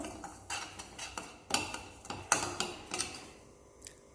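Semolina dry-roasting in a pan for rava payasam, a metal spoon scraping and tapping against the pan in irregular clinks roughly every half second, close and fairly quiet with no talking.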